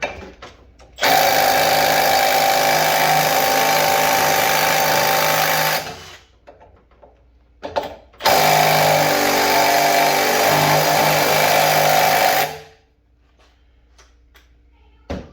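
Milwaukee M12 right angle impact wrench hammering loudly on a 1-inch bolt, two sustained bursts of about five and four seconds separated by a short pause, close and harsh with steady rattling impacts and no speech.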